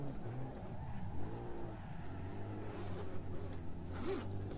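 A European racing truck's engine in the driving sim Assetto Corsa revs under throttle, a low, rumbling drone that rises and falls in pitch, moderately loud and continuous with no talk.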